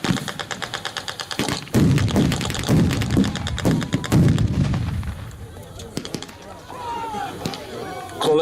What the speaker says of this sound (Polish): kolejne granaty wybuchały tuż przed...